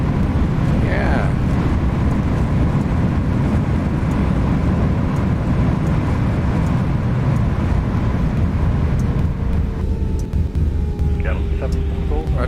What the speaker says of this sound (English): I really love the engine sounds